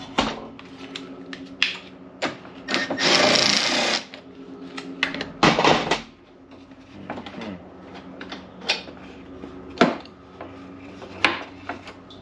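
Ratcheting and clanking of a 10 mm socket on an extension breaking a bolt loose during radiator removal on a 2005 Jeep Liberty 3.7L, with sharp metallic clicks and a loud burst of scraping, close and without talk.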